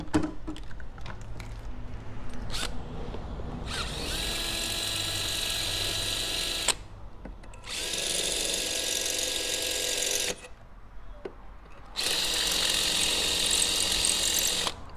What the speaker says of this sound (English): Obviously, I'd pre-drilled these holes, so I'm just opening them up now.